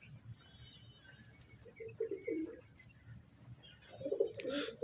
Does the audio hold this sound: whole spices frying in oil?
no